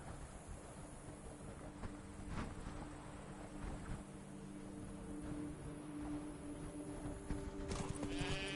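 Roach, a horse in The Witcher 3 Wild Hunt (Blood and Wine), gallops with steady clip-clop hoofbeats over a continuous ambient game bed, with brief whinny-like accents and no speech.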